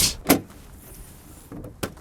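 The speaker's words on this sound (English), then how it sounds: "Ooh, heavy little latch." Trunk of a Toyota A90 Supra two-seater coupe shut with a heavy latch: a couple of short solid thuds close by, the loudest near the start and another near the end, with no talking.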